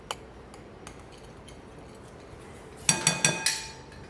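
A fresh-squeezed lemon dressing is mixed in a bowl: faint scattered ticks, then four quick, close clinks of a utensil striking the bowl.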